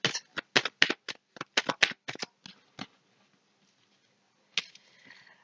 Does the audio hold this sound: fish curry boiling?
no